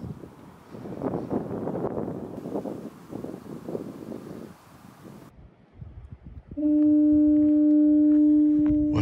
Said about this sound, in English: is that the foghorn?